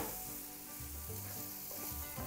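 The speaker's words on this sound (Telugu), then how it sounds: "ఈ ఉండల్ని తాలింపులో వేసేసుకుందాం." Steamed rice flour balls sizzle in hot tempering oil with a steady, crackling fry and soft stirring scrapes, close and alone with no voices.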